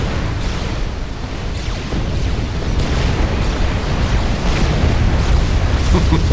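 A dense barrage of explosions in a Supreme Commander battle, a loud, continuous rumbling roar of overlapping booms with repeated sharper blasts throughout.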